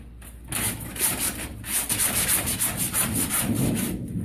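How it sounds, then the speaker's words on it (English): A hand-held floor scraper pushed across a floor, a coarse rasping scrape repeated in rhythmic strokes, close and steady throughout with no speech. "This is just a floor scraper, which I think I showed you guys a little while ago."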